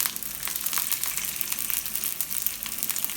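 Curry leaves crackling in hot oil for a tempering with jeera and red chilies, a dense, close sizzle with rapid pops and spatters throughout.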